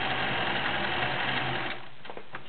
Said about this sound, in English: Very neat design, very smooth. Machine sounds awesome.